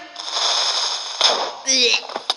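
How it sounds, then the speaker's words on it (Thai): Explosions in the video game Minecraft go off in quick succession, loud crackling blasts with a rough burst, a brief lull, then another sharp detonation and hiss near the end. "เอาระเบิดซ้ำอีกที"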